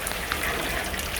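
Rainwater from a heavy downpour drains in a steady rushing flow on a rooftop in Bahria Town Karachi, a constant watery hiss with no pauses.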